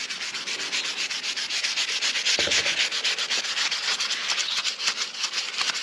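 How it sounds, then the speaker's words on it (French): Fine 400-grit sandpaper rubs over plastic from an R8 brake caliper in quick back-and-forth strokes, a close, steady, rhythmic scratchy hiss with no voices. "Donc là c'est ponçage au 400, donc très fin."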